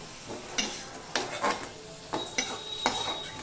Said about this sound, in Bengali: চিচিঙ্গাটা ভাজা হয়ে গেছে নুন হলুদ ছাড়াই, সেটা আমি এবার তুলে নিচ্ছি।